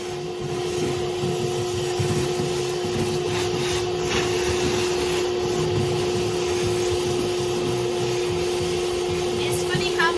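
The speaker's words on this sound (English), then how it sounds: "now we're going to give it a good hoover out and a clean" A vacuum cleaner hoovers out the stripped interior of a Land Rover Defender 110 expedition camper, making a loud, steady whine and roar that runs through the whole stretch with some shifting rumble underneath.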